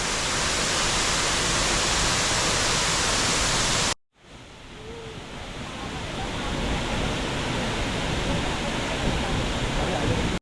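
Water pours down a rocky waterfall in the hill villages of Idukki, a dense, unbroken roar that cuts out briefly, then swells back to a full rush.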